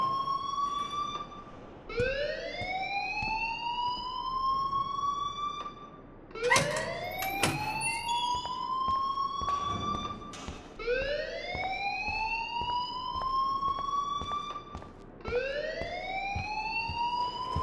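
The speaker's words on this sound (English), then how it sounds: "please turn off that alarm since that's your job" School fire alarm in the game Life Is Strange, a loud rising electronic whoop sweeping upward about every four seconds, repeating four or five times, with a few sharp clatters in between and no talk.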